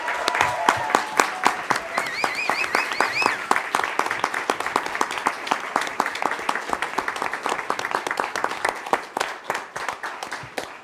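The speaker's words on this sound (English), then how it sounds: "Let's give her a round of applause." Attendees at a school board meeting give a round of applause, a room of hands clapping steadily for about ten seconds at moderate volume, with a few faint voices briefly audible early on.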